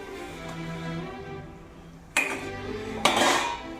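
A spoon scrapes and knocks against a metal pan while a thick sohan halwa mixture is stirred, with a soft continuous scraping and two sharp clanks near the end.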